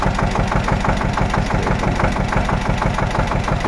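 A Zetor 25 tractor engine runs steadily at idle, a loud close rhythmic chugging and knocking pulse with no voices.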